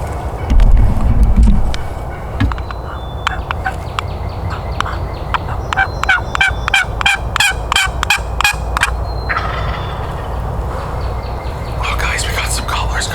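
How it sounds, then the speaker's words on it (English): Wild turkeys gobble in repeated bursts, some distant and some nearer, during a turkey hunt, with people talking quietly over the calls. "we got some gobblers coming in on the left"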